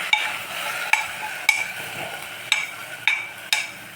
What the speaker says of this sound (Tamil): நல்லா முருங்கைக்கீரையும் போட்டு வெஜிடபிள்ஸ் போட்டு நல்லா வதக்கிக்கலாம்